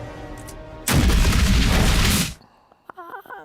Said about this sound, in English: We have 6 Japanese missiles inbound. Launch intercept missiles.